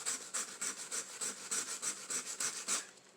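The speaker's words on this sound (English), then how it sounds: "Trying to sand this down" A Dollar Tree craft charger plate is sanded by hand, giving a close, rhythmic rasp of quick back-and-forth strokes, about a dozen evenly spaced scrapes.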